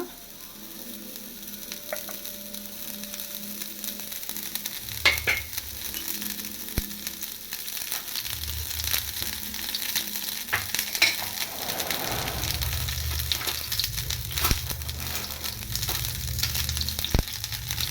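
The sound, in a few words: onion rings frying in a hot pan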